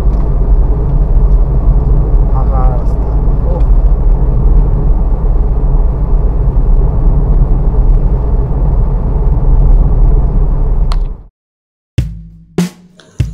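A car drives along an empty road through forest in Jharkhand, giving a loud, steady engine rumble and road noise from inside the vehicle that cuts out abruptly near the end, followed by a few short knocks.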